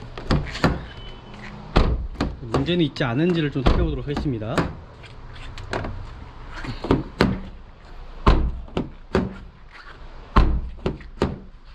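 Several solid thunks from a Sonata New Rise Modern car door being opened and shut, spaced out and close by, heard beneath someone speaking Korean almost continuously.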